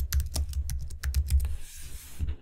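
Quick, close keystrokes on a computer keyboard as an item name is typed into invoicing software, a steady burst of crisp clicks that pauses briefly, then a couple more taps.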